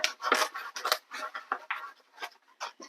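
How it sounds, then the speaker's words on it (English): Scissors snip and scrape at the tip of a fabric seam on a sewn flower bag, a quick irregular series of close, crisp cuts and rustles with no talking. "you might need to use scissors at the very tip, as I am, to get it to lay flat without ripping"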